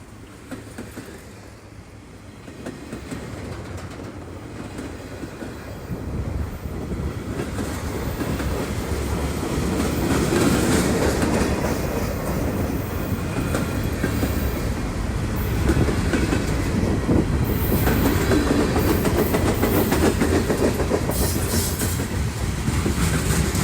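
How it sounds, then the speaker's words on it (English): A CSX westbound mixed freight train rolls past, a steady rumble of rail cars with clickety-clack that builds and holds loud and close for the whole stretch, with no talking. "the QV17 westbound mixed freight train"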